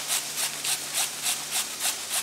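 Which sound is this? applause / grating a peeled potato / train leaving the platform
grating a peeled potato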